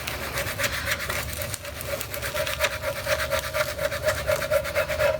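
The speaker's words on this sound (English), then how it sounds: "just pull this back a little bit with your scraper" A scraper rubs stencil tape down onto a round wooden sign in steady, rapid back-and-forth strokes, a close, scratchy rasping with no talking.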